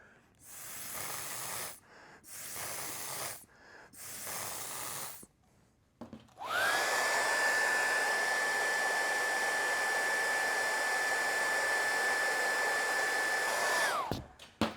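Hair dryer blowing to dry a coat of paint, a steady close whooshing hiss lasting about eight seconds after a few short breathy puffs, then cutting off abruptly.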